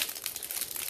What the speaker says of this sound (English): So let's just rip it open.